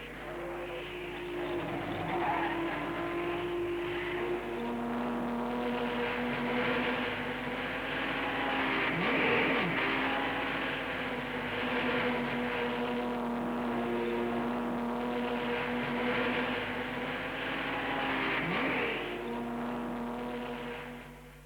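A Mercedes-Benz Silver Arrows race car laps the Nürburgring, its engine droning steadily at a sustained pitch with slight rises and falls across the run, without any talk.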